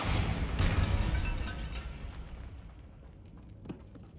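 A Bombarda blasting spell goes off in Hogwarts Legacy inside a tomb, a loud close explosive boom with crumbling debris that slowly decays, followed by a few faint clatters.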